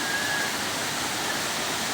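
Sikarim waterfall roars as a dense, steady rush of falling water, loud and unbroken throughout with no voices.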